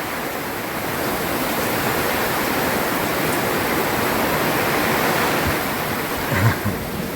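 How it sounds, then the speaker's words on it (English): A squall at sea near a harbour makes a loud, continuous roar of wind and rushing water. The noise stays heavy throughout, with a brief dull thump near the end and no voices. "There's a squall happening now."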